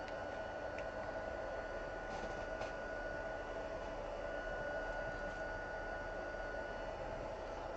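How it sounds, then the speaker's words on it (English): A heat embossing tool blows hot air in a craft room, a faint, steady whooshing hiss with a thin whine running unbroken, no speech. "Then I'm gonna triple heat emboss today"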